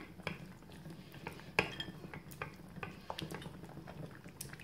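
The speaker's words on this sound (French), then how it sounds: "Il faut bien mélanger" Soft scraping and clinking of a utensil stirring melted chocolate in a saucepan, with quiet gentle taps and a faint liquid texture, close and unhurried.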